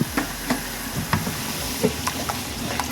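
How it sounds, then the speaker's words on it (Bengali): Spiced masala for a quail bhuna sizzles and hisses steadily in a hot pan after a splash of water, with a few stirring scrapes breaking through the continuous frying noise. "পানি দিয়ে দিলাম মশলাটা কষানো হওয়ার জন্য।"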